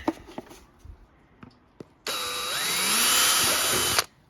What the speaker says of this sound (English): carefully drill that out